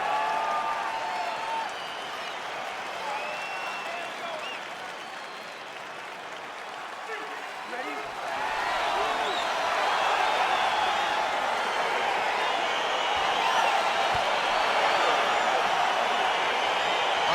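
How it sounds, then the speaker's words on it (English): A UFC arena crowd cheers and applauds as the Donald Cerrone vs Joe Lauzon bout begins, a broad roar that swells louder midway and stays strong, with a voice talking over it. "Crowd getting excited as this fight gets underway"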